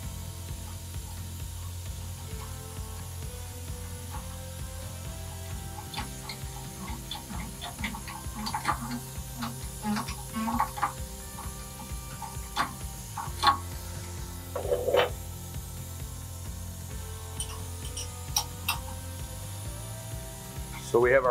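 A ratchet clicks in short bursts as a nut is tightened onto a machine's sub spindle, set over a steady low machine hum in a workshop, with no talk.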